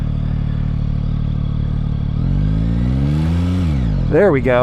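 A Yamaha XSR 900 motorcycle engine runs loud and close while riding through an S-turn, holding a steady drone before the revs climb and fall through gear changes and ending in a brief sharp rev, with a short spoken remark over it.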